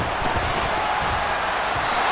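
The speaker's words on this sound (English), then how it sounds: "Some applause for the defense there." A stadium crowd at an American football game, an NFC Championship Bears game, applauds the defense. The broad, steady roar of clapping and cheering fills the whole stretch with no break, dense and distant.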